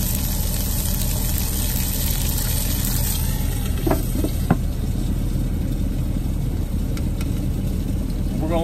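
Pork tenderloin cooks in a lidded pan at 350 degrees, giving a steady muffled sizzle over a constant low engine-like hum, with a couple of light knocks partway through.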